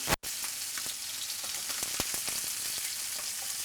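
Octopus in a hot pan, heated and lightly caramelized, gives a steady loud sizzle with scattered crackles and pops from close by.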